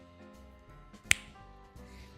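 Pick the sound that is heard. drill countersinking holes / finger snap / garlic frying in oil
finger snap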